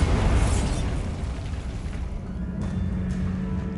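Blasting spell explosions from the video game Hogwarts Legacy: a loud booming burst opens, then rumbling debris and crackle fade under a steady low hum, with a couple of smaller pops later.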